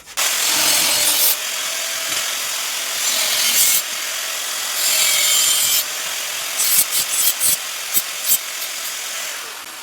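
A power saw cuts zinc pipe pieces for a welded window frame on a construction site, a loud, harsh, grinding whine that runs in long sustained passes and then breaks into short bursts near the end, with no talking.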